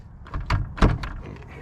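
A 1960 Studebaker Lark's car door swinging open beside a trailer, heard as a couple of close, dull mechanical clunks and creaks within a short stretch, with no talking.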